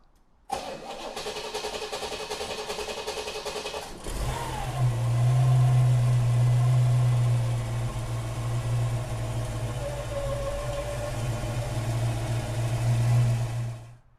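1934 Ford pickup with a 350 Chevy V8 and a 350 turbo automatic, started cold: a starter whirs for a few seconds, then the engine catches with a loud burst and settles into a steady, rumbling idle close by.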